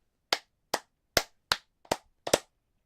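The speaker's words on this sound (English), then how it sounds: "the teacher does 3 claps, and then you have to echo" Six sharp, separate hand claps ring out at even intervals, crisp and close with clean silence between them, in the style of a class echoing a teacher's clapping pattern.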